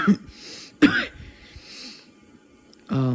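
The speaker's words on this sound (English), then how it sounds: "the cough is still real shitty" A few harsh, close coughs from a person with COVID, one at the start, a sharper one just before the midpoint and a rougher one at the end, with quiet breathing between them.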